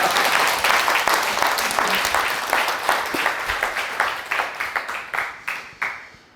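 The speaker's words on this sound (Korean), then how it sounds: "이럴 때도 딴 데서는 박수를 치시는 거예요." Lecture audience applauding in a hall, dense clapping at first that thins into scattered, separate claps and fades out over about six seconds.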